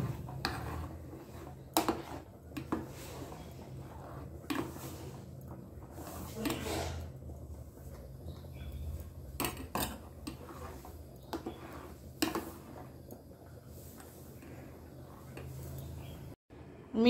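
A spoon stirs jaggery into mung dal payasam in a pot, quiet scattered taps and scrapes against the pan over a low background, with a few soft clinks.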